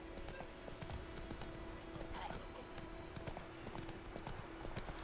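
Horse hooves clip-clopping at a steady gallop in The Witcher 3, a continuous rhythmic pounding at moderate level, with a faint whinny and someone talking over it.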